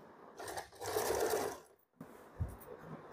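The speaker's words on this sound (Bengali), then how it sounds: "এবার দ্বিতীয় দিকটাও আমি একইভাবে সেলাই করে নিচ্ছি" Sewing machine running in short bursts while stitching the second side of an umbrella frock, a steady mechanical whir with a brief pause near the middle, fairly quiet and close.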